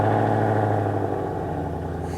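A custom-upgraded 2015 Ford Mustang GT Premium idles close by, a steady, loud, low engine rumble that holds evenly with no revving.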